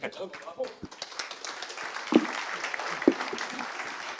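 Audience applause at a business seminar on cookieless environments, a fairly steady patter of clapping with a couple of sharper claps standing out, heard under overlapping speech in the room.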